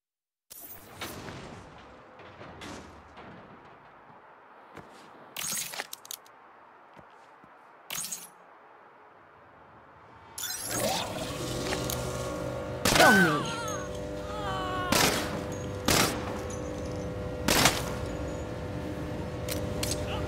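In Saints Row, a quantum aperture gun fires at live targets, loud sharp shots and bursts ringing out at irregular intervals after a quieter stretch, with a sustained hum behind the later blasts.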